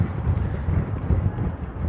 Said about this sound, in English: It might be the windiest I've ever had it up here.